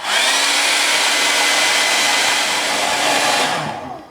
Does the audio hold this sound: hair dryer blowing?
yes